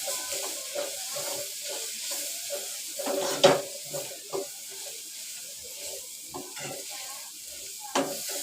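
Malvani masala and softened tomato frying in a pan for dry bombil chutney, a soft sizzle under repeated spoon stirs and scrapes, with one sharper clank of utensil against pot midway.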